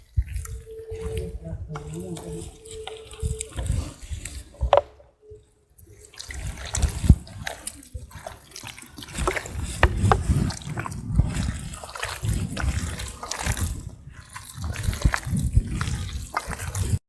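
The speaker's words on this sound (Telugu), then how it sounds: "మళ్ళీ కొద్దిగా వాటర్ యాడ్ చేసుకుందాం." Water is added to Mysore bonda batter and mixed in by hand, giving close wet dripping and squelching sounds with brief pauses, while a person talks over the mixing.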